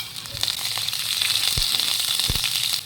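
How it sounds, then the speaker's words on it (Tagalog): Ginger and onion sautéing in hot cooking oil in a pan, a steady close sizzle and crackle with a few soft knocks from stirring, no talking. "nilagyan ko ng mantika at ginisa na nga natin dito ang luya. At sinunod na rin natin ang sibuyas"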